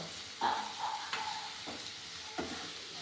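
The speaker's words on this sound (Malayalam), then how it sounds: "ഈ സവാള നന്നായിട്ട് വഴറ്റിയാൽ ഈ ചിക്കൻ റോസ്റ്റിന് നല്ല ടേസ്റ്റ് കിട്ടുള്ളൂ" Onions are sautéed in a pan for a Kerala chicken roast, giving a soft, quiet sizzle with occasional scrapes of a spoon stirring them.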